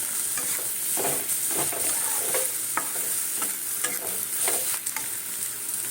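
Hand-mixing of a Mughlai paratha filling in a bowl, soft wet squelching and stirring scrapes repeating steadily at close range, with no voices.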